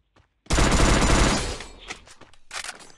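Gunfire in the battle-royale shooter game Free Fire: a dense automatic burst erupts after a quiet start, roars loudly for about a second, then trails off into scattered shots, thuds and game noise.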